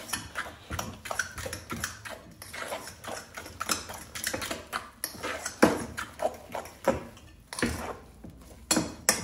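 Potato galette mixture with fine semolina being stirred in a bowl, giving a steady run of close clinks and scrapes of utensil against dish, irregular and busy throughout.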